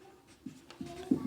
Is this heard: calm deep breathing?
no